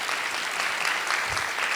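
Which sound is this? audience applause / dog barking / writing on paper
audience applause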